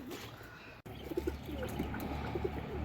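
Native domestic pigeons coo softly in a coop, with a few short, low, repeated coos over a faint background hum, plus a brief dropout near the start.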